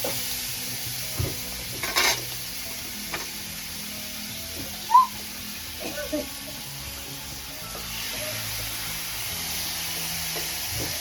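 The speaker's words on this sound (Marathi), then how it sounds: "काल तर टाकलेले कोलबी मस्त आवाज नका करू. आता मस्त फ्राय होईल." Prawns frying in a pan make a low, continuous sizzle, with a few scattered clinks and stirring knocks on top.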